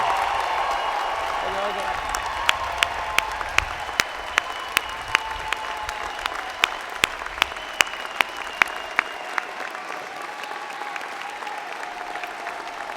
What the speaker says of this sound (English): join me in applauding the amazing graduating class of June 2017